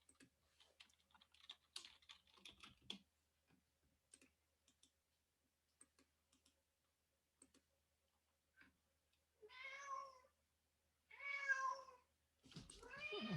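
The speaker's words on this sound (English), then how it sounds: "my cat is not really happy as well" A cat lets out three drawn-out, unhappy meows close by, following a stretch of quiet keyboard typing and clicks in a room.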